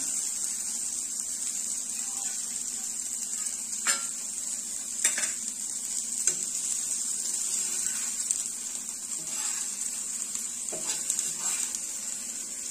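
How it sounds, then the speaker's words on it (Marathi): Soya chunks frying in a pan, a steady bright sizzle throughout, with scattered clinks and scrapes of a utensil against the pan. "सोया चंक्स आपले फ्राय झालेले आहेत, आपण हे काढून घेणार आहोत।"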